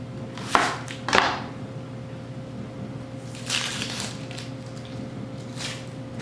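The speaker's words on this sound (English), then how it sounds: "all you do is just cut your onion in half and then slice it" A knife slices onions halved on a cutting board, giving two sharp, close chopping knocks followed later by a softer cluster of cuts, heard over a steady low background hum.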